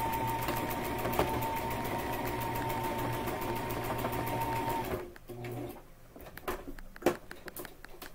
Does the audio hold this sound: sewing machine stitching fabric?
yes